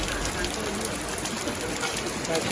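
Rain falls steadily as a dense, even patter on surfaces, continuous and fairly close throughout.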